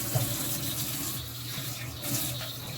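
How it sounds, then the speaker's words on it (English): A kitchen tap runs steadily into a sink as salt mackerel is rinsed, a continuous splashing gush close by with no talking. "Just gonna wash off back my salt mackerel."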